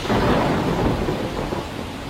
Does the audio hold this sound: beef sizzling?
no